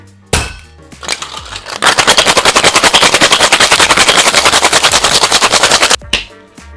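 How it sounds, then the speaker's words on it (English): A cocktail tin packed with ice is shaken hard, making a dense run of rapid, even rattling bursts for about four seconds, loud and close, with quieter handling clatter before and after. "We are just gonna ice our tin and give that a shake."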